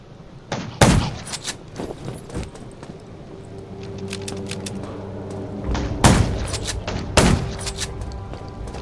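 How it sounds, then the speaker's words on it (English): Gunfire from a zombie video game, with sharp separate shots cracking at irregular intervals over a low background hum. "Gunshots."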